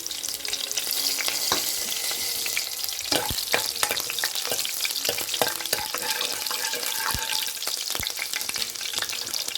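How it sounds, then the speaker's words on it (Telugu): Onion and green chili pieces fry in a hot pan of oil, making a loud, continuous close-up sizzle broken by occasional clinks and scrapes of stirring, with no voices. "ఉల్లిపాయ ముక్కలు కూడా వేసేసుకున్నాను. గోల్డెన్ బ్రౌన్ కలర్ వచ్చేదాక వేయించుకోవాలి మనం."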